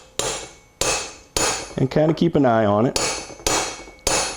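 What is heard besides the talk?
small brass hammer tapping a gear down into a Powerglide carrier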